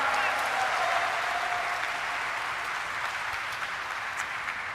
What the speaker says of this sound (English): I'd like you to applaud